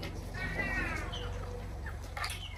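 Chickens cluck and squawk at moderate distance in a Filipino household yard, a few short calls over a low steady background hum.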